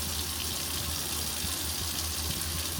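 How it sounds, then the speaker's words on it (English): Hot water poured from a kettle into a pot over mei fun rice noodles in a home kitchen, a steady close rushing pour with no talk. "I'm going to get the hot water over it."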